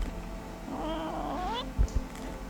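A cat meows inside a video game, a rising, wavering cry lasting about a second, followed by two short thumps and no talking.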